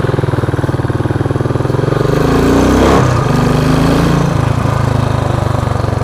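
Royal Enfield 535 Continental GT single-cylinder motorcycle ridden hard along mountain switchbacks: a loud, close, rapid engine thump that swells in revs around midway, then settles back to a steady pulsing drone.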